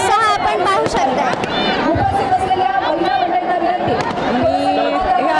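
A large crowd of women cheers and chatters at an evening Shiv Jayanti celebration in Solapur, a dense, steady roar of voices with shouts rising above it throughout.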